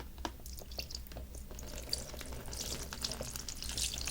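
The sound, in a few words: resin 3D print dipped in alcohol wash bath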